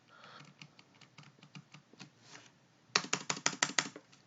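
Ctrl, Alt and arrow keys pressed on a computer keyboard while editing code in Visual Studio Code, a series of soft, close key clicks that turn into a faster, louder burst of taps near the end.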